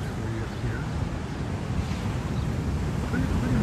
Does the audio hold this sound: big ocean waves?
yes